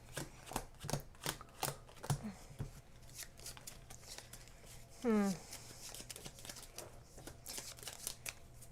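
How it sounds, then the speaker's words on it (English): Decks of cards being shuffled for a board game, a run of quick riffling and flicking bursts at close range, with people talking quietly in between. "I got to shuffle now."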